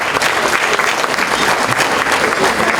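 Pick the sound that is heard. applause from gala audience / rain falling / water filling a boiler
applause from gala audience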